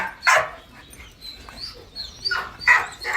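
A female dog barks and snaps sharply at other dogs in a pack, with several loud bursts of barking separated by quieter whimpers and yips, close by.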